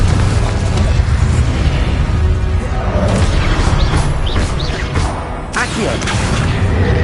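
Confringo blasting spell explosions in the Hogwarts Legacy video game: a dense, loud, continuous roar of booming blasts and rumble, with a few sharper bursts near the end.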